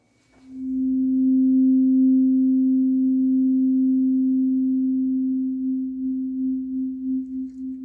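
A steady pure test tone played into the ear during a cranial nerve hearing check, starting after a brief silence and holding at a constant pitch for about seven seconds before wavering slightly at the end.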